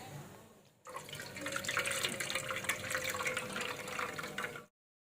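After a brief quiet moment, water splashes steadily into a container of soaked tamarind for a few seconds, then stops abruptly.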